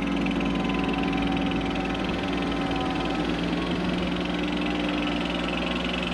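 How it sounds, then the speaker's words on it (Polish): Tractors, a Valtra and others, run steadily while compacting a silage pile on a farm, a continuous mid-pitched engine drone with a low rumble, fairly loud and unbroken with no talk. "Chyba ciągniki ubijają."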